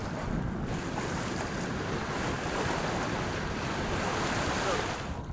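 Wind gusting over the open sea aboard a sailboat near Saint Lucia, a continuous roaring rush of wind buffeting the microphone with wave wash beneath, steady and fairly loud.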